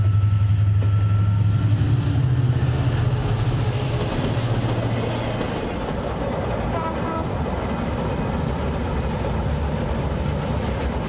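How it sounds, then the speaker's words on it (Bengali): A special agricultural goods train from Rohanpur, Chapainawabganj, runs steadily past, its continuous rumbling roar and clatter filling the scene throughout without any voices. "চাঁপাইনবাবগঞ্জের রহনপুর থেকে রাজধানীর উদ্দেশ্যে যাত্রা কৃষি পণ্যের বিশেষ এই ট্রেনটির"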